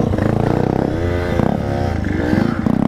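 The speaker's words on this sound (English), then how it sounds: "So you can wheelie a 50cc." A 50cc motorcycle pulling a wheelie, its small engine revving hard with a buzzing, rising and falling drone, close and loud and running steadily through the short stretch.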